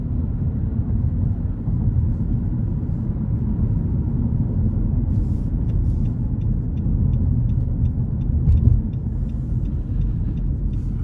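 A 2021 Nissan Rogue Sport SV driving in eco mode, a steady low road rumble and engine drone from inside the cabin, with faint light clicks partway through.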